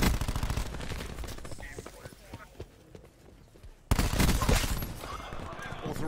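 Bursts of automatic gunfire in a multiplayer shooter game's team deathmatch crackle steadily throughout, with a louder surge of shots partway through, layered under a man's chatter.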